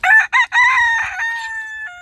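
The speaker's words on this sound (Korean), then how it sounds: "수컷들이 똥순이 노리려고 쫓아다닌다" A rooster crows loudly and close by, a single full call with a rising start and a long drawn-out tail.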